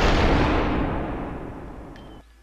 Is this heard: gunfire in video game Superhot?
yes